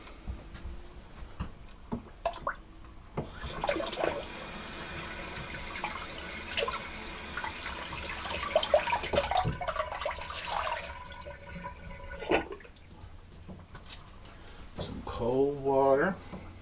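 Warm water runs from a bathroom tap during a wet shave with a vintage razor, a steady splashing hiss filling the middle of the stretch, with scraping and handling noises before and after.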